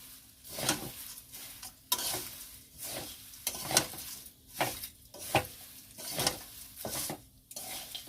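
Flattened rice (chira) being stirred and fried in a pan for homemade spiced chira bhaja, with repeated scraping strokes of a spatula roughly once a second over a soft, continuous sizzle, close and clear with no talking.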